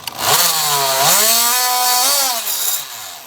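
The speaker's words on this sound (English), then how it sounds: "It's called a rigid scraper and it's supposed to scrape away at the mortar." Power tool fitted with a rigid scraper bit grinding mortar away, a loud close high whine that bends down and back up in pitch as it bites, then drops off at the end.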